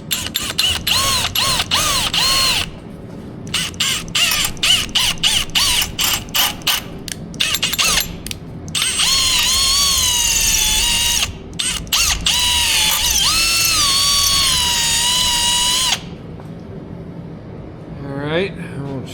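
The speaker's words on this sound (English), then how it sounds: "Probably first thing I'm going to do is drill out that clevis." A drill bores out a metal clevis clamped in a vise, with repeated close, loud bursts of whirring and grinding that stop and start, separated by short pauses and a longer steady run.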